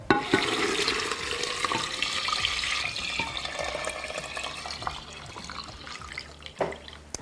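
Salted water poured from one vessel into another for fermenting beet kvass, a close gurgling, splashing stream with drips and a few small knocks.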